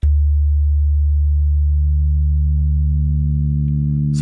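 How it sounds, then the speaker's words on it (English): A low, pure sine tone from an Elektron Digitone synthesizer holds steadily and loudly for about four seconds, with no other sounds. "So we'll just start out with a sine wave, even though that's extra boring."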